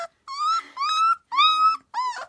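A three-week-old European basset hound puppy whines in four drawn-out, rising and falling cries separated by short silences, close and clear.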